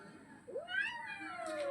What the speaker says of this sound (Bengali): পেছন পেছন চলে এসছে এই বিড়ালটা